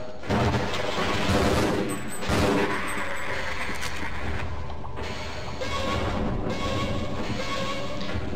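Shotgun blasts aimed at headcrabs in Half-Life, several loud, booming shots with crashing impacts, spaced unevenly across the stretch over busy game noise.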